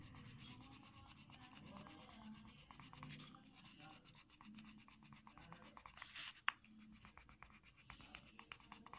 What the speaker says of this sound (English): Press the color pencil and do the color.